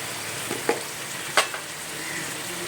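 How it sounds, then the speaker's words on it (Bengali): Ground cumin sizzling steadily in hot oil in a pan, a continuous soft frying hiss with a few brief scraping clicks from stirring. "জিরের গুঁড়ো দিয়ে এবার আমি নাড়বো।"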